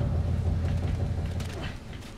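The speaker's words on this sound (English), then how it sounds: "It's all the creaking and everything" A building creaks and groans in The Last of Us video game, a low, sustained rumbling creak with faint mechanical strain, steady and fairly loud, no voices over it.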